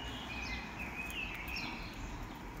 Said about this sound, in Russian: Слышите, птички как поют.